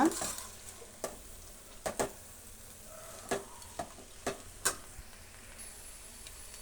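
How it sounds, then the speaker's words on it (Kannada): Amaranth greens and lentils fry in oil while being stirred, giving a faint, steady sizzle punctuated by occasional soft scrapes and knocks of the spoon against the pan, with no talking. "ಸೊಪ್ಪು ಬೇಳೆ ಎಲ್ಲ ನೀಟಾಗಿ ಹಾಗೆ ಕಲಸೋಣ ಎಣ್ಣೆಯಲ್ಲೇ ಫ್ರೈ ಆಗಬೇಕು"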